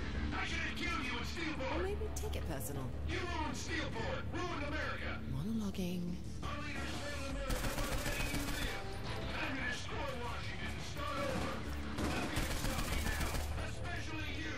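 Rapid bursts of gunfire from the video game Saints Row IV crackle through the whole stretch, with heavier automatic volleys in the second half, all under a running voice talking over the action.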